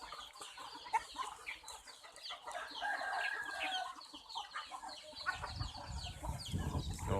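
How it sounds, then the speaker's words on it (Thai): A flock of chickens clucks steadily during a rice feeding, overlapping chatter nearby with a low rumble of scuffling or handling rising toward the end. "กำลังให้ข้าวไก่นะครับผม"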